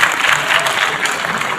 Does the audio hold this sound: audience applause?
yes